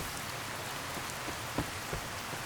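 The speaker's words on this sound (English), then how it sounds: "It's still raining, by the way." Steady rain falling in Fallout: New Vegas, a soft even hiss of drops on surfaces with a few louder individual splashes, faint and continuous with no voices.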